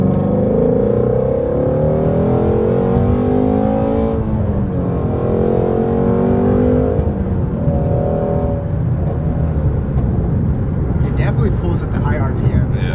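Ford Shelby GT350 accelerating hard to high RPM, a loud engine note climbing steadily through the revs, heard from inside the car, with a voice speaking over it.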